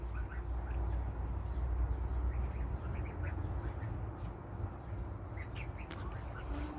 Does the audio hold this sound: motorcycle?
no